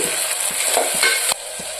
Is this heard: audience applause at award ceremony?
no